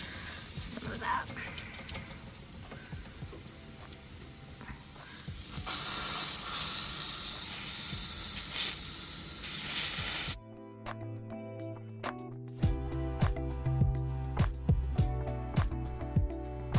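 Flipped pieces of food sizzle and hiss steadily in a hot pan as they brown on the second side, a loud, continuous frying crackle that stops suddenly and gives way to music.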